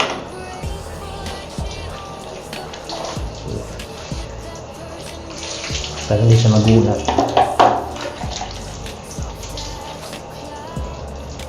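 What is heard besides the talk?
water from a shower rinsing a cat during a bath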